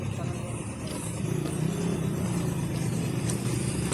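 A Honda-style Splendor BS6 motorcycle with an ignition fault, its engine giving a steady low rumble close by for a few seconds, with no clear revving.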